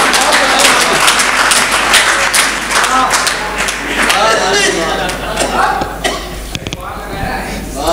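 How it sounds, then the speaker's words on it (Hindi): An audience at a poetry gathering in Pratapgarh applauds the poet Chandrakant Tripathi Chandra, loud sustained clapping from a large crowd with murmured voices mixed in, thinning slightly toward the end. "जोरदार तालियां बजाइए आदरणीय चंद्रकांत त्रिपाठी चंद्र जी के लिए"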